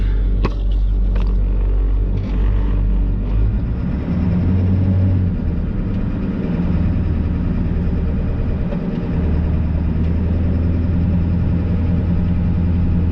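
An International 4700 truck rumbles at close range, its heavy diesel engine idling low and steady, then pulling away with a deep, continuous drone, no talking over it.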